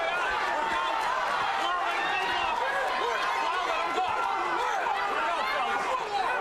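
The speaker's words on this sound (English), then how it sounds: "We have Vladine's fans cheering." Crowd of boxing fans cheering and chattering at a live fight, a dense, steady roar filling the hall with a commentator talking over it throughout.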